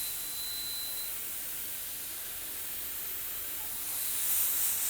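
A steady, fairly faint hiss of spraying onto hydrographic film, airy and continuous, swelling slightly louder toward the end.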